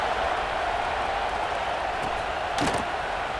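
Stadium crowd in EA Sports College Football 26 keeps up a steady, dense roar after a touchdown. A brief louder swell rises near the end.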